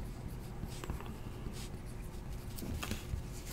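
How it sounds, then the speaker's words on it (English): Marker pen scratching across a football trading card, quiet continuous scribbling strokes with soft squeaky bursts, close and alone. "Again, I will write all over your card."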